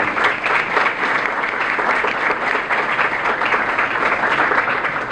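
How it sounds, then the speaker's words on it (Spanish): Audience applause at a university neuroscience panel event, dense and steady clapping from a seated crowd, moderately loud and continuous throughout with no voices over it. "Un aplauso para ellos, por favor."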